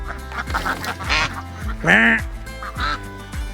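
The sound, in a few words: ducks quacking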